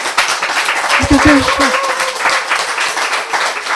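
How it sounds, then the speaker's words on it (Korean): Applause from an audience at a Korean health lecture, a broad steady wash of clapping that runs the whole stretch with a voice talking over it. "박수."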